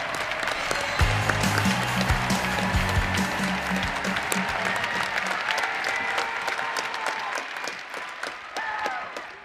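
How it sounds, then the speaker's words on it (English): A crowd claps steadily, dense applause filling the space with a few cheers, gradually thinning toward the end. "Let's give our newest alumni a round of applause"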